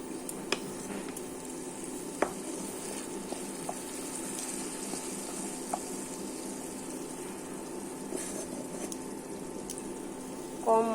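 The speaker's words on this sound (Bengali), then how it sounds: "দিয়ে আবারও ভালো করে কষিয়ে নেব মশলাটা।" Masala for a vegetarian soya cutlet curry frying in a pan, heard as a quiet, even sizzle with scattered soft clicks of stirring and a small clatter at the very end.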